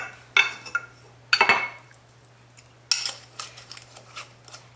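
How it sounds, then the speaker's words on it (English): A spoon scoops homemade everything bagel seasoning into a glass jar, giving three clear bursts of scraping, clinking and rattling separated by quiet pauses, close and crisp, with nobody speaking. "We just scoop it right in there and add it to the jar"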